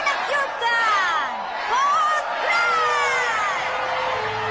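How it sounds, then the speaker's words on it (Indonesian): A cartoon concert crowd cheers, whoops and shouts in repeated loud swells, near and energetic, with brief lulls between bursts. "berikan sorak-sorai untuk dua teman baik yang bersama lagi untuk satu malam yang menakjubkan"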